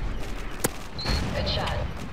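Gunfire sounds in Modern Warfare 3 Spec Ops co-op play: a burst of shots and a sharp crack over dense game noise, with players talking.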